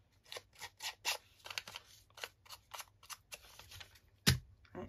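Thin paper being torn along its edges in a rapid series of short, dry ripping bursts, close and alone, ending with one sharper louder tear.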